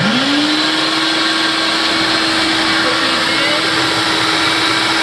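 A kitchen food processor slices cucumbers for a cucumber salad, its motor spinning up at once into a loud, steady whirring roar that holds unbroken to the end.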